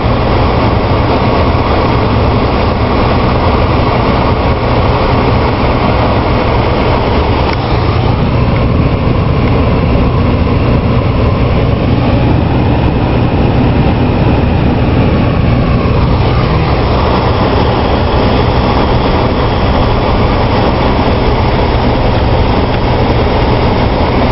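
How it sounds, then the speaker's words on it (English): A train passes while the recording comes from inside a moving vehicle on a Christmas-lights drive in Taylorville, with steady loud road rumble throughout and a distinct shift in the noise during the middle stretch as the train goes by. "we've just passed a train"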